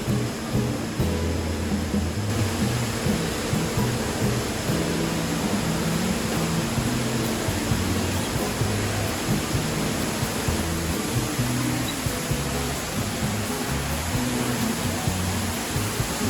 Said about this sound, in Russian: главный шум не от вентиляторов, гоняющих влажный воздух, а от водопада, который самый высокий водопад Канады внутри помещений